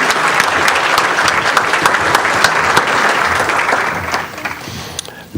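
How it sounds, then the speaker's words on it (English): Audience applause rises at a Rotary club meeting to welcome visiting guests, a dense and fairly loud wash of many hands clapping at once that holds steady for several seconds before thinning out at the end. "Let's give a big round of applause for our visiting guests and Rotarians."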